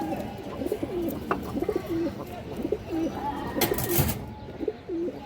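Silver pigeons coo repeatedly in low, rolling calls close by, layered over a busy background with a brief sharp clatter near the middle.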